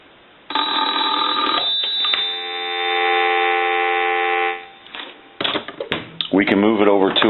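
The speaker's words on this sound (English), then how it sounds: "Check the ringer one more time." An electromechanical ringer in a repaired telephone sounds in a long sustained burst, then briefly again, followed by a voice speaking near the end.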